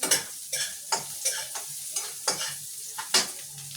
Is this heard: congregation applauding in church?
no